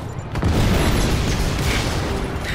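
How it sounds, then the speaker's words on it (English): A C4 explosion in the Just Cause 3 video game lands as a heavy boom, then a sustained loud rumble of blast and debris that rolls on without a break. "What more could you want from a game, really, than just unlimited explosions?"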